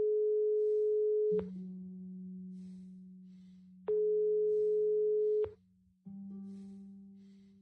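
Unanswered call tone in Broken Sword 5: a steady electronic ringing pattern of long sustained tones switching between two pitches with sharp clicks at the changes, clear and alone with no voices.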